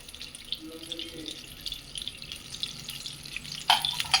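Drinking water splashes and trickles over a pot lid being rinsed, with a steady wash of running water and a louder splash near the end.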